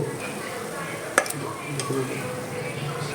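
Banana pieces fry on low heat in a pan as carp bait, a faint steady sizzle with a few sharp clinks and scrapes from stirring utensils close by.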